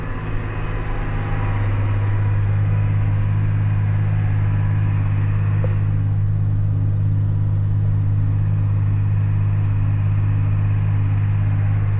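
John Deere 8300 farm tractor engine running at full throttle while working ground, a loud, steady low drone with constant rumble throughout and no talk.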